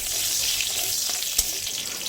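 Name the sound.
whole cumin seeds sizzling in hot oil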